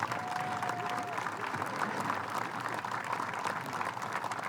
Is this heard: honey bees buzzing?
no